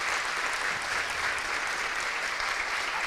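Strong, steady applause from a lecture audience at a book fair, a continuous wash of many hands clapping close by.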